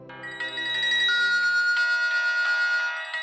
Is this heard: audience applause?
no